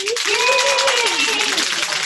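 Applause fills a team meeting, a steady wash of hand claps close by throughout, with a voice rising over it in a sustained cheer.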